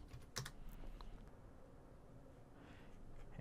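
Quiet typing on a computer keyboard, with a few scattered keystrokes and clicks over a low background hum, close and faint, with no speech.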